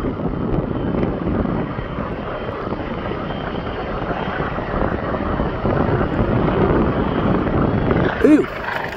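A firefighting plane drones overhead, its steady loud engine roar filling the whole stretch without a break, with a brief voice near the end.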